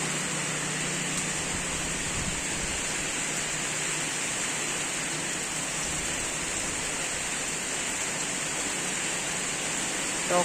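Heavy rain with strong wind at a Thai country home, a steady dense hiss of downpour that stays loud and unbroken throughout, with no voices.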